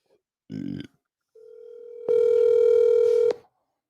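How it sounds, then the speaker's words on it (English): A telephone call begins with a short noisy burst, then a steady dial tone that grows louder and holds for about a second before cutting off, with a brief voice just before. "Let me call him on the phone."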